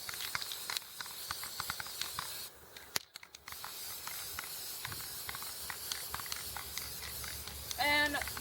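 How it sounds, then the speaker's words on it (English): Spray paint can hissing in short and long bursts of lime green and other colors, close and fairly quiet, with faint handling noises between sprays. "These spray paints were just whatever I found laying around my house."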